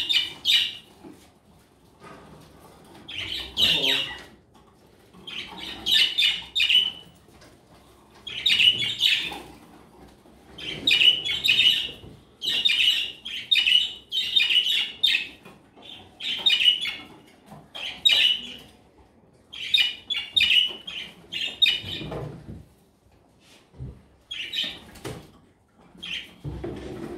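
Show birds, hens and a young cock in an aviary, chirp and squawk in repeated bright bursts, some short and some in quick clusters, with quiet gaps between and faint knocks in the background.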